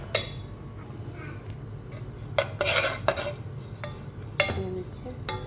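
A spoon scraping and clinking against a pan while ingredients are roasted and stirred on low heat for homemade baby food or mother feed, a few sharp metallic scrapes and taps, fairly close, over a low background hum.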